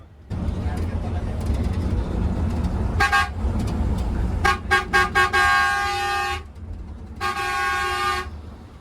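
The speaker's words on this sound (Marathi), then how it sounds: "एकतर भरपूर त्रास होतो त्या प्रेशर हॉर्नचा" Loud pressure horns honk on a busy road: a short blast near three seconds, a run of quick toots followed by a long sustained blare, then a second long blast, all over steady traffic rumble and background voices.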